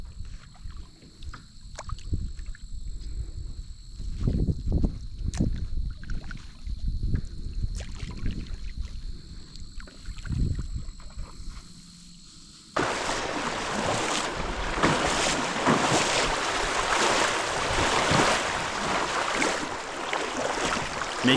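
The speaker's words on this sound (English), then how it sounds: "in some spots, dragging the kayak is the only option" A kayak moving up a shallow creek and being dragged, with scraping, knocking and splashing water at first, then a steady loud rushing of water and hull friction.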